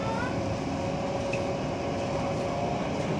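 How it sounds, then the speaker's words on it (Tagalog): Steady low rumble and hum of a moving train heard from inside a crowded carriage in Vietnam, continuous and fairly loud with no speech. "So, sa loob ng train."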